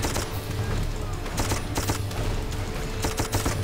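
Rapid bursts of machine-gun fire from the video game Darkest of Days, rattling in close, dense volleys with short gaps, with faint talk partly mixed in.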